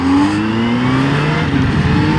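Kawasaki Z H2 motorcycle fitted with an aftermarket Akrapovic exhaust accelerating on the Las Vegas Motor Speedway oval, a loud steady engine drone climbing in pitch through the gears, close and continuous with wind noise.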